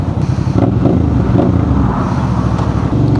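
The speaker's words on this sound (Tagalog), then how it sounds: "Ganda, gusto niya mag-rev na mataas." A Suzuki V-Strom 650 fitted with a GPR exhaust, its engine revved high and held near the limit, a steady loud drone with a few brief blips and no talking.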